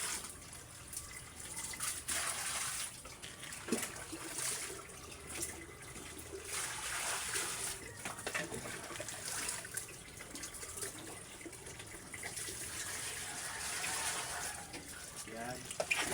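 A steady stream of running water splashes and gushes into a pig trough continuously for the whole stretch, fairly faint, with occasional clatters and a voice talking quietly over it.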